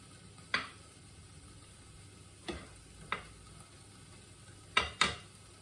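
Prawns cooking in a pan for a ginataang dish with vegetables and chilli: five sharp scraping clinks of a utensil against the pan, spaced irregularly over a faint, steady low background.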